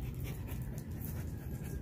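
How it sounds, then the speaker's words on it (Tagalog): A small dog panting softly in quick, steady breaths, close and faint, with no other sounds. "Itong aso ko na maliit"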